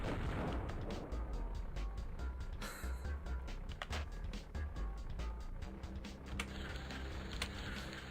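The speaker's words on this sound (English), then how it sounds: "Explosion." C4 explosions while digging in the video game MotherLoad: several sharp bursts and pops, close and loud, scattered irregularly over a background of rumbling debris.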